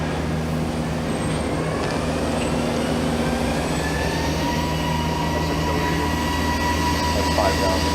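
Steady machinery drone with tonal whine from a 2004 Mazak VCN410A CNC vertical machining center spindle running up to about 2,000 RPM, continuous and even throughout with no talk.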